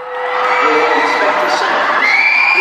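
A large crowd of concert-goers, many of them children, screams and shouts while fleeing an arena after a bomb blast in the foyer, a loud, sustained wall of high-pitched cries and yells throughout.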